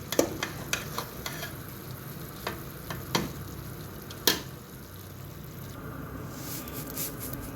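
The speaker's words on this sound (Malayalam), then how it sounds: "നമ്മൾ ഇപ്പോൾ ചിക്കൻ അഞ്ച് മിനിറ്റ് കഴിഞ്ഞിട്ടുണ്ട് അപ്പോൾ നമ്മളിത് മറിച്ചിട്ട് കൊടുക്കുകയാണ്" Chicken pieces for mandi fried in a pan, turned over with repeated utensil scrapes and taps against the pan over a steady close sizzle of hot oil, with a louder clack midway and the frying continuing alone afterward.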